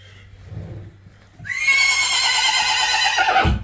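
A dark foal with a white blaze whinnies in a long, loud, wavering neigh lasting about two seconds, close to the listener, after a few quiet low thumps.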